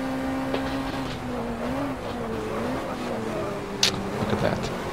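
Engine drone of vintage race cars in the GT Legends racing game, including a Lotus Cortina and a Shelby GT350 running ahead, a steady tone shifting with revs under continuous commentary, with a brief sharp knock near the end.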